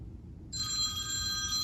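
A telephone rings alone after a quiet start, a steady electronic trilling bell over low background hum.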